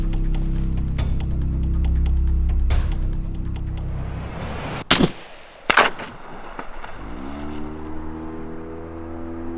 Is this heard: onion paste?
no